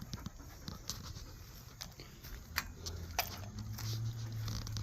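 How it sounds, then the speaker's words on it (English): Puppies play and pant nearby, with scattered pattering paws, light scuffles and quick breaths in a busy, fairly quiet scene. A low hum rises toward the end. "The puppies are having fun."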